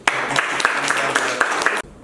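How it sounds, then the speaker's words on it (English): An audience applauds steadily at a youth activist event in Budapest, with dense, even clapping that cuts off abruptly near the end. "so please applaud."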